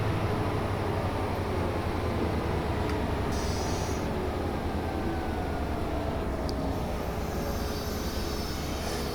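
Commuter train in Train Simulator Classic on the North Jersey Shore and Morristown lines, accelerating with a continuous low rumble, steady rolling noise and a faint rising motor whine, no speech.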